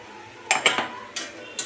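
Shahi paneer being stirred in a pan, with a few sharp clinks of a utensil against metal spaced through a short, quiet stretch of kitchen background.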